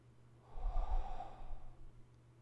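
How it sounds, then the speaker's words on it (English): A soft, close breath is drawn in through the nose and let out through the mouth, one slow cycle over a low steady hum in a quiet room, with no talking. "breathing in through your nose"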